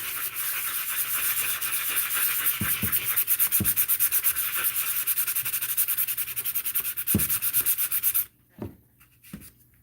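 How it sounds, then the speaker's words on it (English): Rapid back-and-forth scuffing of a sanding block on a surface, rhythmic and close, with a few knocks, then stopping and leaving near quiet. "I'm going to use a little bit of a sanding block there and just scuff those up real good"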